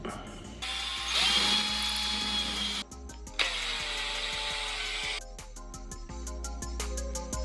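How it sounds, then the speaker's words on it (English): A power drill whirs loudly and steadily while drilling a hole for a PEX pipe fitting on a boat, pausing briefly and restarting, then gives a rapid series of short bursts near the end. "so I need to drill a new hole."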